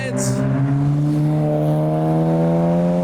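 A Nissan 300ZX convertible accelerates hard into a Japanese car show, its engine note rising steadily in a loud, close, sustained run over about three seconds.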